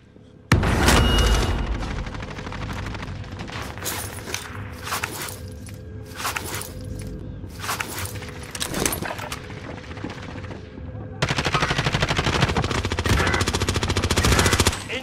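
Automatic gunfire in Warzone Pacific, rapid close bursts of shots with heavier booms layered in, sustained and loud throughout, swelling denser toward the end.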